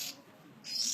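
A young oriental magpie-robin (kacer poci) gives short, high, thin calls, one at the start and a brighter one near the end, with a quiet pause between them.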